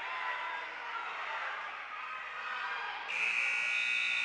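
A loud, steady electronic buzzer sounds over a high school wrestling match crowd, holding a harsh tone that jumps to a higher pitch partway through and continues to the end.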